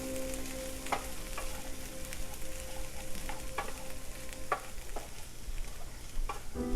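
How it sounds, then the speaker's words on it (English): Garlic sizzles and fries steadily in a hot pan on a cooking show while a utensil stirs it, with a few sharp scraping clicks rising above the constant close hiss. "Okay, so let's give that a stir. Make sure we get all that garlic blended in."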